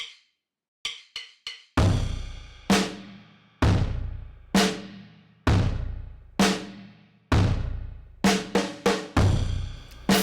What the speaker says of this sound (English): So after the EQ and distortion, it sounds like this.